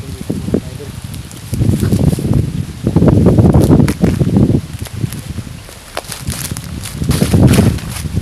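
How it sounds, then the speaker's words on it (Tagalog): Strong mountain wind buffets the microphone in surging gusts, rising and falling with rustling and rough low roaring, no calm moments between blasts. "sobrang lakas talaga ng hangin"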